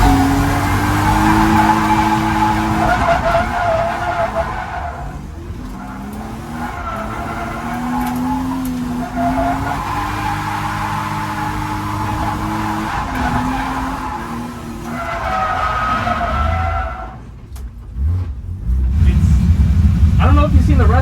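A drift car is pushed into a slide with a clutch kick on a track. The engine drones steadily and the tires squeal and skid in long sustained stretches, close and loud, with a brief dip before the engine surges again.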